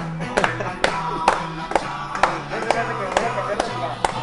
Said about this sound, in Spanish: Aplausos, profe. Aplausos